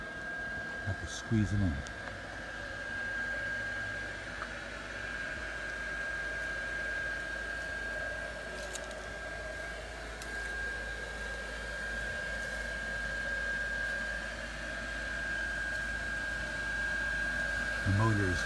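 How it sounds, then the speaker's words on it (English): An 8 ft Gemmy airblown inflatable rotating globe igloo snowman runs its blower motor, a constant close whooshing fan hum with a steady tonal whine that continues throughout while a person talks over it. "The motor is located in the back, down below, you can hear."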